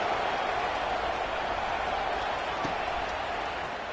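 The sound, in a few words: football crowd buzzing after a score, from a video game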